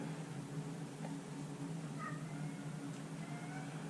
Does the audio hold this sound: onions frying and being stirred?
no